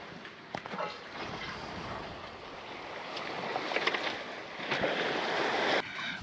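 A sailboat under sail rushes through open water, with steady broadband hiss of wash and wind around the hull and occasional louder splashes, continuous and fairly close.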